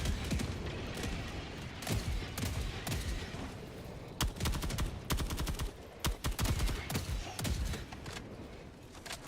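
Bursts of autocannon fire aimed at mechs in a video game, rapid sharp shots in clustered volleys with brief gaps, fairly loud against a rumbling background with no talking.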